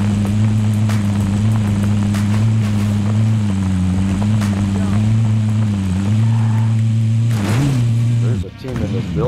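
Car engine in Call of Duty: Modern Warfare rumbles steadily and loudly throughout, its pitch dipping and rising with the throttle, under players' voice chat, with a sharp drop near the end.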